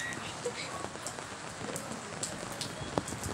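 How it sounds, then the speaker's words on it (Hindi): Steady rain falls and patters on a surface, a dense, continuous hiss with scattered close drips, fairly soft throughout. "तो गाइस बारिश लगी हुई है 3 बजे से और अभी तक ख़त्म नहीं हुई"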